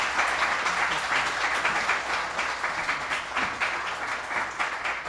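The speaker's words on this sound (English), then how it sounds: "Round of applause to Erin." An audience at a speaker-series talk on automated vehicles and city building breaks into sustained applause, a dense, steady wash of many hands clapping that holds at an even level throughout.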